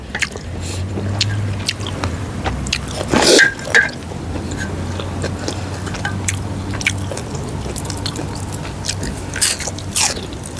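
Close, wet chewing and biting of spicy Thai beef salad, tam lao nuea, with a louder crunchy bite mid-way and steady squishy mastication throughout, some faint talk nearby.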